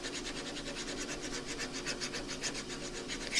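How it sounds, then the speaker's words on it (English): A skew chisel is honed on its other side with steady back-and-forth rubbing strokes of a sharpening stone, close and fairly quiet, no voices. "this time I hone it on the other side"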